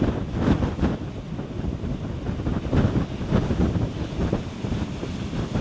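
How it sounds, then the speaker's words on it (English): Strong wind from Storm Kathleen rumbles against the microphone while heavy sea surf surges and crashes below, with several louder wave bursts. "some big waves down below me"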